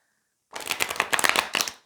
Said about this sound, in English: I like to shuffle again as well on camera